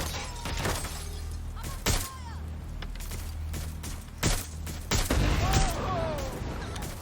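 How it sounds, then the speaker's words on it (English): Gunfire in the video game Watch Dogs Legion, with sharp shots and shattering bursts scattered over seven seconds against a steady background rumble, with some speech mixed in. "I'm under fire!"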